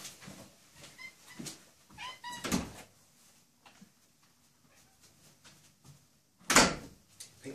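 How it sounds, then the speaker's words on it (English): A house cat meows intermittently near a door, with a few soft thumps and one sharp loud knock or door clatter near the end, in an otherwise quiet room. "I think my cat wants the toilet."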